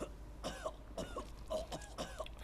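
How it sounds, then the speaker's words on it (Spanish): Four short, quiet coughs from a character in The Evil Within come in an even rhythm, one roughly every half second. "Joseph, cada vez que tose, tío..."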